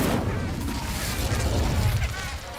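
Confringo and Incendio spells are cast in Hogwarts Legacy, producing a dense, loud wash of crackling bursts and booming rumble that runs continuously through the moment.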